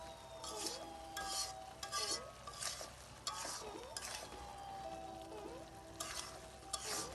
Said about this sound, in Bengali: একটু নাড়িয়ে চাড়িয়ে সুন্দর মতো কষিয়ে নিতে হবে